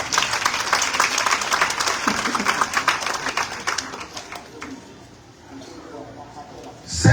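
A church congregation at a Sunday service applauds in a dense burst of clapping that gradually thins and fades, with voices mixed in before a final swell at the end.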